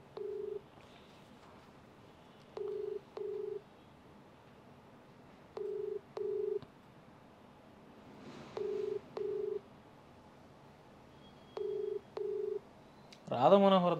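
Telephone call in progress, repeated paired ringback tones at steady intervals, faint and clear, ending in a brief louder burst of sound.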